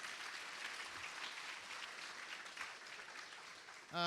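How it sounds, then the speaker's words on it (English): Applause from the audience at an awards banquet, even and continuous clapping throughout, fairly distant and soft, with a brief louder noise at the very end. "I want to give everybody give a quick round of applause to our award trophy presenter for the day, Sonia Onescu."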